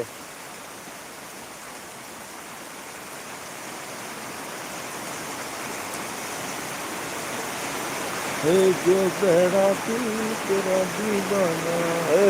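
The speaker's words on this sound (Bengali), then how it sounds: "হে বৃষ্টি বাড়ে আরো" Rain falls steadily as a soft hiss that slowly grows louder, and a person talks over it near the end.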